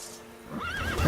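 A horse in The Witcher video game gives a short wavering neigh over a low background hum, with a faint hoof thud at the end.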